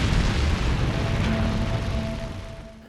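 A nuclear detonation, part of a buried series of 100-kiloton shots and a 1-megaton terminal shot, rolls as a sustained, heavy low boom that fades slowly over a few seconds.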